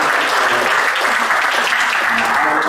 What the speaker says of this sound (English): please join me and give a round of applause to our speakers.